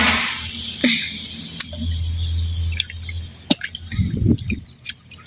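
Water drips and splashes while something is rinsed by hand before making a mango preserve, close and wet, with squishy handling sounds building toward the end.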